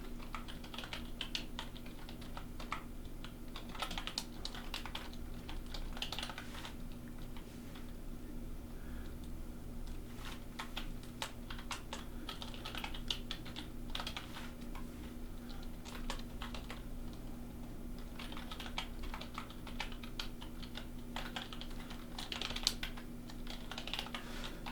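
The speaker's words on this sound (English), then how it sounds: "And I'll explain it once the typing is done." Steady computer keyboard typing of C++ code in bursts of rapid key clicks, continuing throughout at moderate level over a low background hum.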